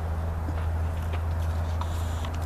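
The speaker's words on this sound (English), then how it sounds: "the first thing I'm going to do is just get my horse to walk forward" A ridden horse's hooves clip-clop at a walk during a horse training session, a steady, moderately close series of soft hoofbeats with a low background hum and no talking.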